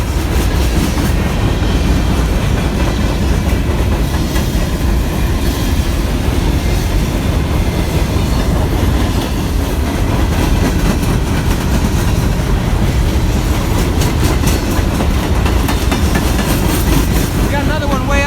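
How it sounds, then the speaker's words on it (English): Norfolk Southern freight train passing at a station, a loud, steady rumble of railcars with rhythmic wheel clatter throughout, and faint talk mixed in. "so there were 3 trains here."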